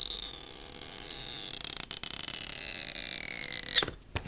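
Battery adhesive strip pulled out of an iPhone X with tweezers gives a long, close, continuous high stretching hiss with small crackles and brief breaks, ending in a sharp snap as it releases.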